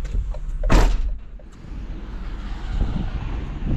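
A door sliding shut with a short loud rumble and thud, followed by low ambient room noise and faint shuffling.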